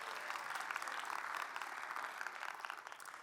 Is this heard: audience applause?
yes